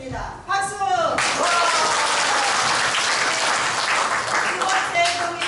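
Audience at a church outdoor games event applauds the winner of a contest; dense, loud clapping fills the clip, with voices calling out over it at the start and end.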